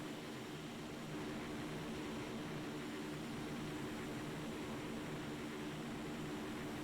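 Engine of a PC-21 turboprop trainer in the FlightGear flight simulator, a steady, even drone with a faint tonal hum, quiet and unchanging throughout with no voices.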